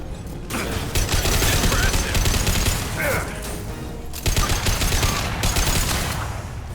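Battle rifle gunfire in the video game Mass Effect 2, Lair of the Shadow Broker: loud sustained bursts of shots with a short lull near the middle, then another dense volley, alongside game effects.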